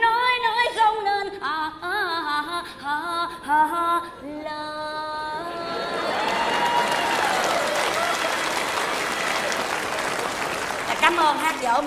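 Audience applause breaks out at a live Vietnamese comedy stage show, a steady wash of clapping lasting several seconds after sung and spoken lines, with talking resuming at the end.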